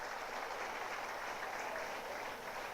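Audience applause at an educational institution's annual day event: a steady, dense wash of clapping that holds at an even level for a few seconds.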